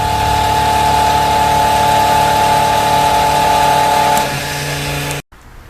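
Diesel fuel pumps into an emergency generator's tank with a steady mechanical hum and faint whine, running continuously before cutting off abruptly near the end.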